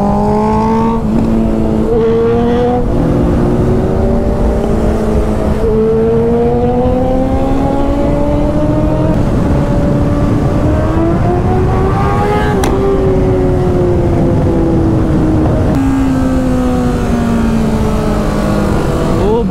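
A group of superbikes, including a Ninja 650, a Duke, a GT 650, a CBR 600, a Harley and a ZX10R, rides along a road. Loud, close engine notes rise and fall continuously through repeated revs and gear changes.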